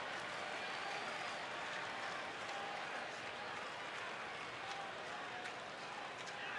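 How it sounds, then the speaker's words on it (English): A baseball crowd at a Mets versus Nationals game cheers a pitch as a steady, distant wash of applause and voices. The broad roar holds evenly throughout, fairly faint. "They're cheering on just about every pitch Max makes."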